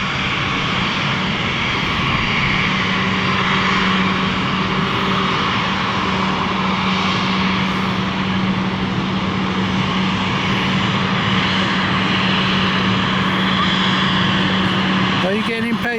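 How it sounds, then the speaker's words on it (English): A fixed-wing propeller airplane takes off on a breezy airfield, its engine a loud, steady drone for the whole stretch, with wind noise over the microphone and voices talking nearby underneath. "We're just to watch this takeoff and then we'll make our way."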